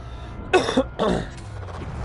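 Two short, harsh coughs or throat-clearing bursts from one person close to the microphone, a pause between them, then a softer trailing rasp.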